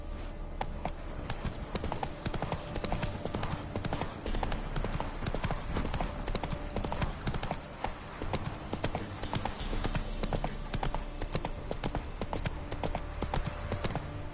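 Roach, the horse in The Witcher 3, gallops with rapid, rhythmic clip-clop hoofbeats, loud and close throughout, over the game's background ambience.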